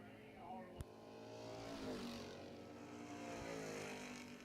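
A 1966 Chevelle drag car with a 632 engine makes a solo bye run at a drag strip, its engine a broad, steady roar building over several seconds, heard at a distance with a sharp click near the start.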